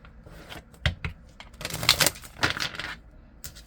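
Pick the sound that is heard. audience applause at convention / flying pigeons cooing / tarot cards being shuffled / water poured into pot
tarot cards being shuffled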